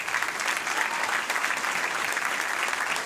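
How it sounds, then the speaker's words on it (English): Steady applause from an audience at a primary school jazz band concert fills the whole stretch, dense and sustained clapping with no voices standing out. "I think we can give them a round of applause."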